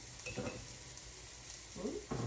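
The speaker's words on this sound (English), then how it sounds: "And then I will drop my noodles in here and stir it all around." Noodles stirred around a hot pan for a pasta dish with chicken thighs and black garlic, a steady close sizzle broken by a few scraping, clattering stirs near the start and end.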